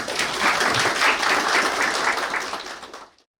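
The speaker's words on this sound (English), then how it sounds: "A big round of applause for her." An audience breaks into a steady round of clapping to welcome a guest, AIR 25 rank holder Bhavika Chopra, sustained for about three seconds before cutting off abruptly.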